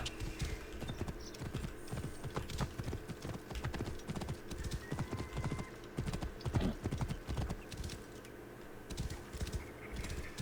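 Steady clip-clop of horse hooves trotting at a brisk, even rhythm, fairly close, with faint Assassin's Creed Origins background ambience and no talking.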